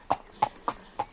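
A ridden horse's hooves strike the ground in four evenly spaced, crisp clip-clops, close and clear with no voices.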